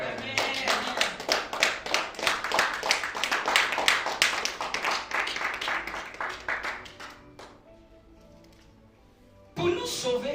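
A church congregation claps together during a worship service, a dense, sustained rattle of many hands that goes on for about seven seconds, dies away into quiet and then picks up again right at the end.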